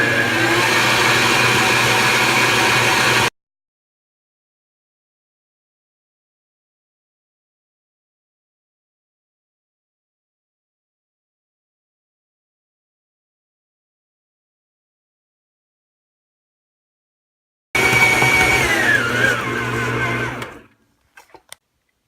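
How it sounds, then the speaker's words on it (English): A stand mixer runs on high, kneading whole wheat bread dough, a steady loud motor whir with a rhythmic knocking, heard in two bursts split by a long silent gap. "I let it mix on high on my mixer for about 10 minutes"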